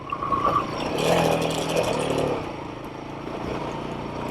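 A Royal Enfield Himalayan 452 motorcycle climbing a Colorado mountain pass, its engine droning steadily up close and swelling briefly to a louder rumble before settling back, with wind and road noise mixed in.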